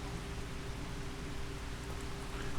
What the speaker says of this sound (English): Oh, is it starting to rain now?